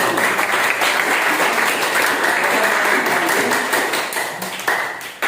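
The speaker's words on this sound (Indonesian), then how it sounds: "kita berikan aplaus bagi kelompok yang terakhir" Steady, dense clapping from a classroom audience applauding the last student group, loud and continuous before thinning slightly toward the end, with a few louder individual claps.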